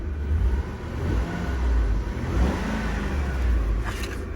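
A supercharged Range Rover engine idling and revving nearby, a steady low rumble that swells and eases with the throttle, heard alone without talk.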